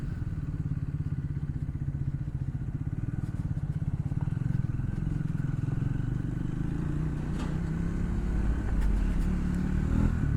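A Triumph Speed 400 motorcycle engine runs steadily under throttle while riding, a continuous close buzzing drone with a slight rise in pitch toward the end and no voices over it.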